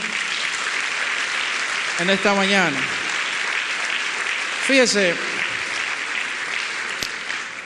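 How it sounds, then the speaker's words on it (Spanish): A congregation at a Spanish-language church service claps steadily throughout, a broad sustained applause with a preacher's voice breaking in briefly twice. "tribútele un aplauso al Señor"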